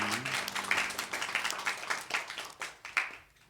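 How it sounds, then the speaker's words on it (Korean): A church congregation gives brief applause after a prayer, a moderately quiet patter of many hands with a few rhythmic stronger claps, fading toward the end, slightly distant. "우리 하나님께 영광의 박수 올려드릴까요?"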